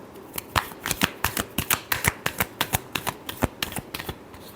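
Tarot cards being shuffled by hand in a rapid run of crisp riffling snaps and flutters, close and clear, with no talking over it.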